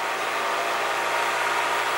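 A car's engine-bay pull fan runs on its own at cold idle, a steady broadband whirring hum with a slight fluctuation, continuous and close.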